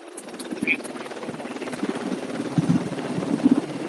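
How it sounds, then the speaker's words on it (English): An aircraft drones steadily overhead during an urban assault course, a low rotor-like thrum, with faint voices and clatter now and then underneath. "Same time, you got the aircraft above."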